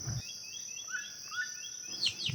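Small birds chirp and twitter softly on a cool, misty village morning, thin high calls repeating over a quiet background, with a sharper burst of chirps near the end.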